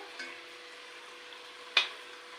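Small fuchka puris fry in hot oil with a soft, steady sizzle and a single brief louder crackle, heard close and alone with no talking.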